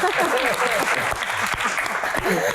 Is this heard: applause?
yes